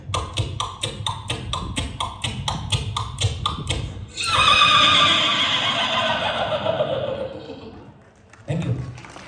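A performer at a Mumbai comedy show imitates a horse, first with rapid rhythmic clip-clop taps of hooves, then a long, loud vocal neigh that trails off, followed by a short voice.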